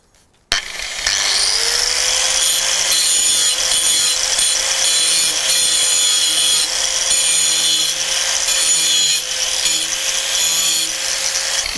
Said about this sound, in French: Et j'essaie d'obtenir justement avec la meuleuse